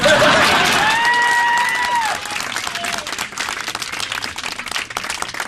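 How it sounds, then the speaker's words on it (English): An audience at a political talk at the Colonial Inn breaks into loud, dense applause that thins to scattered clapping, with a brief whistle-like cheer riding over the start. "You can clap if you want."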